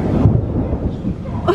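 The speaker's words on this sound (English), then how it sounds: "We better get inside. It's raining!" A deep rumble of thunder and rain roll through an outdoor theme park area, close and loud, with a short burst of higher sound at the end.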